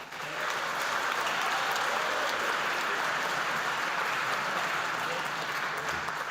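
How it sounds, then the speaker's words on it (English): Sustained, dense crowd applause at an Auckland council inauguration ceremony honouring newly sworn councillors, a loud, even roar of many hands with no break. "A big round of applause, family, for our first group of Auckland councillors."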